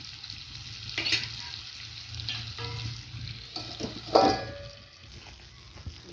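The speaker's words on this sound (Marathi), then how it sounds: "आता हे वांगं आपण परतून झाकण ठेवून द्यायचं आहे 5 मिनटं. तेलामध्येच वांगं शिजवून घ्यायचं आहे." Brinjal stir-fries in oil in a pan, a quiet steady sizzle punctuated by a few louder spatula stirs and scrapes, near and with no one speaking.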